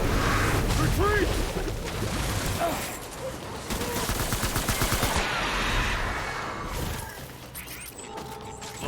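Bursts of rapid gunfire and machine-gun rattle sound in a Vietnam-style battle in Death Stranding, with mechanical clanks and a shouting voice over a loud, dense, continuous din.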